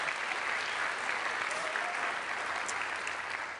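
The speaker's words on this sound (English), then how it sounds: "please give yourselves a round of applause for that" A conference audience at a Wikimania opening plenary applauds themselves, a full, continuous roar of clapping from a large hall that holds steady from start to finish.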